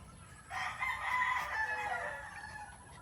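A claret cross gamecock rooster, a Claret over Boston Roundhead, crows once in a long drawn-out call at moderate distance, rising after a short pause and trailing off, with no talk over it.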